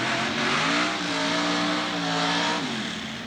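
A 1957 Chevrolet drag car with a 770-cubic-inch nitrous-assisted engine roars at a dragway, a loud sustained engine howl with a shifting pitch that dips near the end, close and alone.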